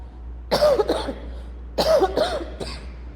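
Two bursts of harsh coughing, each a quick cluster of two or three coughs, close up over a low steady hum.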